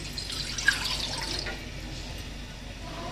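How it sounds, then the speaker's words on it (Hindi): About a quarter litre of milk poured into a pot for custard pudding, a short soft splashing pour that fades after a second or so, leaving quiet kitchen background. "अब इसमें हम डालेंगे थोड़ा सा दूध, 1 पाव के करीब।"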